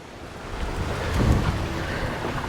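Waves wash against a boat ramp on the Sunshine Coast, Queensland, a steady close surge of water that swells briefly and then settles, mixed with wind buffeting the microphone.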